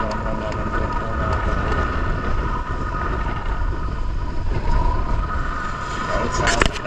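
Strong wind roars steadily across the microphone outdoors while fishing, a constant low rumble and buffeting throughout, with a faint voice somewhere in the background.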